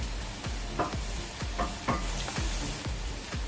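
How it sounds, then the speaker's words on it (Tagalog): Thinly sliced boneless chicken is stirred with onion and garlic in a hot pan: a constant sizzle broken by repeated scraping strokes of a spatula, roughly two per second, close and alone. "Tapos, ihalo dyan sa onion and garlic."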